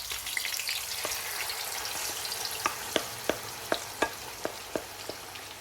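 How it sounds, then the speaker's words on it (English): Beef sizzles steadily in a hot pan with spices for a karahi, with a series of sharp spatters and pops crackling over the constant hiss. "Frying it for about 10 minutes until the meat has a glorious color and the spices have come alive."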